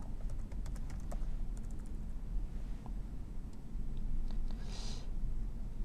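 Code being typed on a computer keyboard: a quick, steady patter of close key clicks over a low hum, thinning out into sparse taps.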